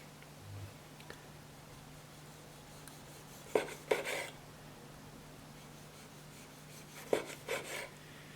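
Zladinox 1016 steel knife with a damaged edge slicing tomatoes, heard as quiet scattered cuts and two short clusters of scraping, tapping board contacts over a faint steady hum.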